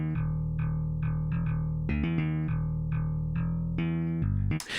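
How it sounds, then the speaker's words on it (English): A slap bass plugin in FL Studio plays solo, with punchy plucked notes that have sharp attacks and ring out in a steady rhythm, loud and close, with a few faster runs and a brief noisy burst at the end. "the slap bass sounds like this"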